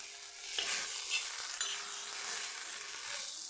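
Cumin and garlic stir-frying in a pan for roasted eggplant bharit, a steady close sizzle with occasional scrapes and clinks of a spoon stirring through it, no voices.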